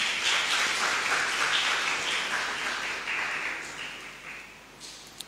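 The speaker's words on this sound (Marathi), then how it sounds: "आपण सर्व टाळ्या वाजवून स्वागत करूया." A church congregation at a house festival service in Nandurbar claps to welcome the guest speaker, a dense wash of applause that starts full and gradually thins and fades out over several seconds.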